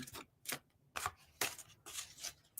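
Tarot cards being shuffled by hand in several quick, separate riffling bursts with short pauses between them, close and fairly quiet.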